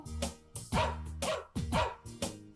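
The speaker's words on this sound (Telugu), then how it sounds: "ఇంటి ముందు కుక్క పిల్ల భౌ భౌ భౌ." A puppy barks in a quick series of short, high yaps, close by, with music faintly underneath.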